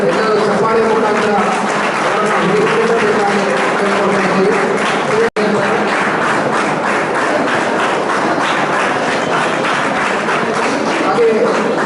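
An audience claps to honour women who have donated blood many times at a blood donors' day event in Udupi. The applause is loud and dense, keeps going steadily, and a voice speaks over it.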